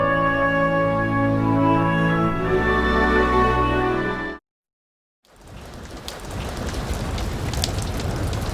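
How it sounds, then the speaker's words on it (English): Heavy rain falls steadily on a golf course, a dense loud hiss that cuts to a second of silence and then resumes as lighter, scattered patter. "A little rain never stops John Espinosa"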